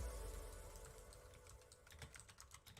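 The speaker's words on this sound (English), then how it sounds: "we can constantly hear you typing" Rapid clicking of computer keyboard keys, faint and slightly distant, in an uneven burst that grows denser toward the end over a low background hum.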